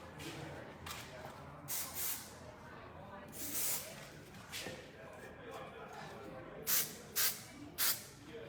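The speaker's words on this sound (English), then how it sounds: "So a bit of a dry wax spray." Several short hissing bursts from a dry wax hair spray can, close up, coming in quick puffs with pauses between them.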